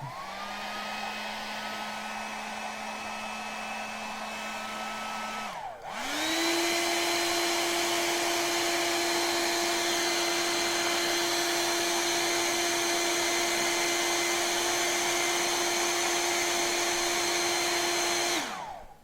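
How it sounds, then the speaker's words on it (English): A handheld blow dryer runs steadily to dry freshly applied Scale 75 paint on a miniature, its loud whirring motor pausing briefly, then restarting at a higher, stronger pitch and droning on alone. "My blow dryer is going to be running for a minute"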